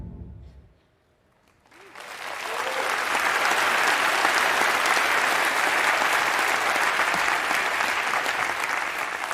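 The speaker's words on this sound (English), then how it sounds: "They deserve to be applauded because they earned it." Audience applause at a talk on business ownership starts after a brief quiet moment, then swells into a loud, sustained, even wash of clapping that holds steady to the end.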